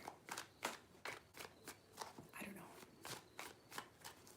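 Tarot cards being shuffled by hand, heard as a steady run of soft, crisp riffling bursts repeating in a quick rhythm, close and quiet with no voices.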